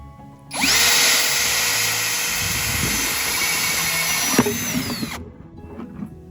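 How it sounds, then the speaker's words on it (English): Power drill boring drainage holes through the bottom of an old bucket, one loud, steady whining run of about five seconds that winds down at the end, with no voices. "I used old buckets and drilled some drainage holes at the bottom"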